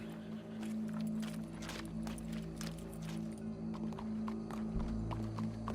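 Horse hooves clip-clop in the video game Red Dead Redemption 2, a steady run of close, sharp hoofbeats over a low hum of game ambience.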